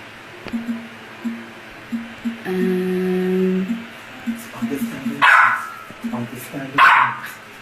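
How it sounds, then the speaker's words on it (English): A dog barks indoors in a few sharp, loud bursts alongside a longer whine, with a voice talking at low level in between. "Sorry about the dog."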